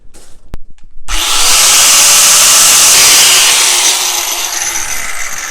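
Threaded rod being cut with a power tool for a no-weld blacksmith forge: a loud, continuous abrasive grinding whine that starts abruptly after a few brief clicks and holds steady for several seconds, close and alone.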